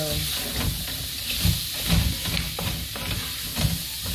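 Shrimp and precooked turkey sausage for jambalaya hit a hot pan, giving a steady close sizzle with soft stirring scrapes and a few dull knocks, alone without talk.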